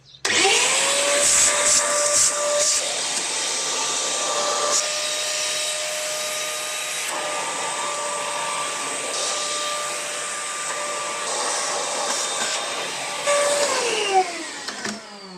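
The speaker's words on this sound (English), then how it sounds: "I'm going to try and vacuum out what I can get to" A vacuum cleaner whirs up to speed inside a Mitsubishi Legnum car interior, runs with a steady high-pitched whine and suction changes, then winds down at the end.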